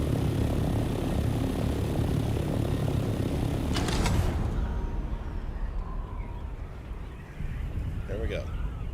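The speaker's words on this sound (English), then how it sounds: "We're gliding at a pretty good speed, and it doesn't cost us nothing in fuel to just glide." Scout ornithopter gliding through the air in a game, a steady broad whooshing drone of airflow and engine noise that thins slightly midway, with a voice talking over it.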